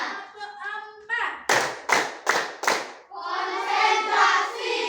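Children in a classroom clap their hands together in a call-and-response clap game, with four sharp, evenly spaced claps ringing out between stretches of chanted voices.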